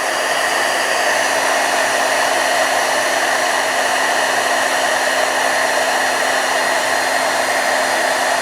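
A heat embossing tool blows a constant loud hot-air roar while melting clear embossing powder on paper, a steady close hiss with no variation and no talk.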